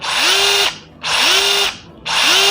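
A DeWalt DCH072 cordless rotary hammer drill, set to plain drilling mode, spins up three times in close, loud bursts, each with a rising whine that levels into a steady whir before cutting off.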